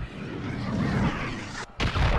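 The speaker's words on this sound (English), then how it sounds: "Friendly cruise missile deployed" Cruise missile explosions in a Call of Duty game, a dense, loud rumbling boom that roars on, cuts out abruptly to near silence, then slams back in with a second heavy blast.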